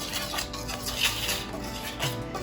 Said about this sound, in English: I am going to whisk them together to combine them